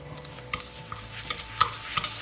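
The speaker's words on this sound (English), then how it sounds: "And we're going to mix these together." Cream cheese being mixed with egg yolk, sugar and flour in a bowl for a pumpkin cream cheese loaf, giving soft, steady stirring and scraping with a few sharper clicks of the utensil against the bowl.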